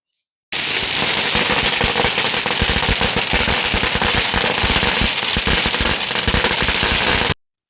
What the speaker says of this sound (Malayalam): ഇതൊക്കെ ഇവരെ ചെറിയൊരു സാമ്പിൾ വെടിക്കെട്ടായിട്ടുള്ളൂ